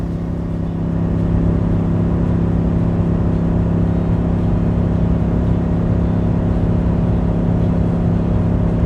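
A Chevy Silverado 1500 pickup engine labors under a towing load, holding a loud, steady in-cabin drone with a deep tonal hum that rises slightly after a downshift, heard alone without talk.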